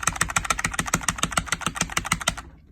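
Rapid, forceful keystrokes on a mechanical keyboard with linear switches, about a dozen sharp, evenly spaced clacks close to the mic that stop abruptly near the end.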